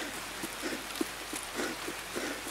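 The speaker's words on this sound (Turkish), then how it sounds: "Yağmur şiddetini arttırdı ve yağmaya devam ediyor." Steady rain in the video game Escape From Tarkov, a soft continuous hiss of falling drops with faint scattered patters, heard alone without voices.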